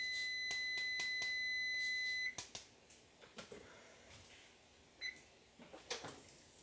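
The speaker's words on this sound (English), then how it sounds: "it sounds like our timer is going off." A kitchen timer beeps in steady repeated tones for about two seconds, then stops, followed by quiet kitchen handling noises at close range.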